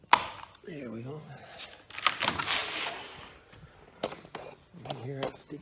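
A sticky wooden screen door is unlocked and pulled open, giving sharp clicks and knocks followed by dragging, scraping rattles, while someone talks intermittently nearby.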